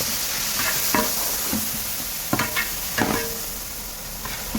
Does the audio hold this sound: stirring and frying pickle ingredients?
yes